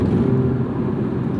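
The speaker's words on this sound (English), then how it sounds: "I'm loving this engine more than I thought I would. The rotary is so smooth. It sounds great." The rotary engine of a 2004 Mazda RX-8 runs smooth and steady with a low, even hum and no sharp changes, heard briefly from the car.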